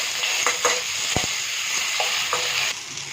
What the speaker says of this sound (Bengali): মশলাগুলো ভালো করে ভাজা হয়ে গেছে